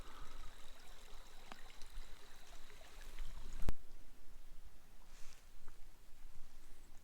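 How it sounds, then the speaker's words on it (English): Indian Creek flows along a wooded trail in Giant City, a soft continuous trickle and burble of moving water heard up close and fairly quiet, with no voices. "Beautiful creek."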